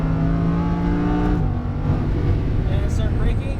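A Lamborghini Huracán engine pulls hard on a race track, a loud, steady roar with a pitch shift partway through, as if through a gear change, while an instructor talks over it.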